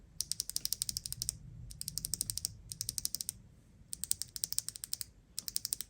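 Rapid, crisp clicking of Outemu Panda mechanical keyboard switches in bursts of fast typing with brief pauses between, close and fairly quiet.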